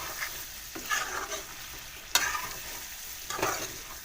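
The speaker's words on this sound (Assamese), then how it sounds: "এনেদৰে মছলা দি দি লৰাই লৰাই ভাজি থাকিব।" Pork stir-fried with spices and coriander powder in a pan over a medium gas flame: a quiet ongoing sizzle with a few scraping stir strokes spaced out, one sharper clack near the middle.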